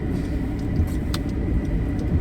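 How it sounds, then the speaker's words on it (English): A car engine rumbles and sputters nearby, a low uneven churn with small bumps and one brief higher clank partway through, no talking heard. "Car's like, burp, burp."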